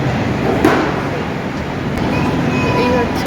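A loud, steady rumble of a train fills London Euston station, with a faint squeal and people talking underneath.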